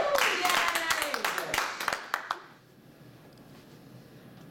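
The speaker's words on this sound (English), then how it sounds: "let's clap for her again." An audience claps together for a few seconds, a dense burst of hands under some voices that stops abruptly and leaves a quiet room.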